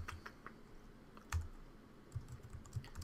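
Quiet clicks of a computer keyboard as shortcut keys are pressed, a few scattered keystrokes followed by a short cluster of taps, close and faint with no talk.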